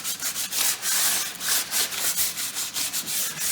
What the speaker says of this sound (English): I'm just going to take a small piece of sandpaper here, 220 grit, and just clean up this edge here.